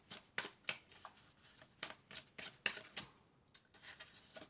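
Tarot cards are shuffled up close in a quick run of crisp, papery riffles and snaps, pausing briefly before a few softer final shuffles.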